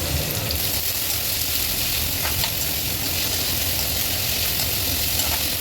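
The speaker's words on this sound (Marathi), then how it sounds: "कांदा छान लाल होईपर्यंत परतून घ्यायचा" Onions fry in a pan for peanut chutney, giving a steady, even hiss and sizzle that stays close and unchanging throughout with no talking over it.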